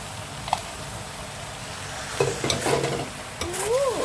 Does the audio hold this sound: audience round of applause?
no